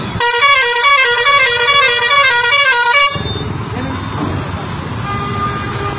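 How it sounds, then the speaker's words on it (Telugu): Loud horns fitted on road vehicles blare as one sustained, multi-tone honk for about three seconds, then cut off and leave steady street traffic noise. "ఇసోంటి హారన్లు ఎందుకు పెడుతుండ్రు బండ్లకు"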